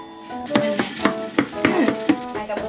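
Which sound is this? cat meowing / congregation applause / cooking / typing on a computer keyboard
cooking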